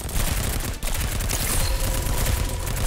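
Rapid gunfire in the video game Girls Frontline, a dense, loud stream of overlapping shots with a brief gap, continuing to the end.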